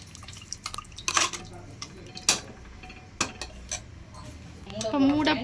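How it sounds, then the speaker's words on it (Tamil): Country chicken curry stirred in a cooking pot, with intermittent clinks and scrapes of a utensil against the metal and a soft watery bubbling, close by, with a voice faintly in the background. "நல்லா கிண்டிக்கிறோம்."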